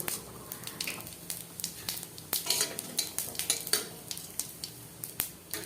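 Dried red chilli and cumin seeds tempering in hot oil, a steady close sizzle broken by frequent sharp clinks and scrapes of a spoon stirring against the pan.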